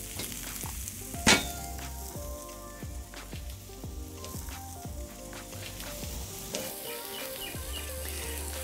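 Steak searing in a hot pan, a steady sizzling and frying hiss that runs throughout at a moderate, close level, with a sharp brief crackle early on and no talking.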